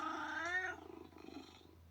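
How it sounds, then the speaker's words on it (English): A short cartoonish cat meow jingle plays as a cute video game celebrates a beaten level, a bright rising mew followed by a softer purring trail, clear and alone. "Every time you beat the level, this little cat pops up and does that little meow"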